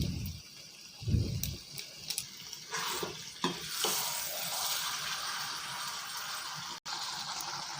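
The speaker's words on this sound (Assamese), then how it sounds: "এতিয়া গৰম মছলা দিয়াৰ পিছত আমি চব্জিখিনি ভালদৰে লৰাই দিছোঁ।" Jackfruit and chicken curry with garam masala fries in a pan while being stirred, a steady close sizzle broken by a few scraping knocks of the spoon near the start.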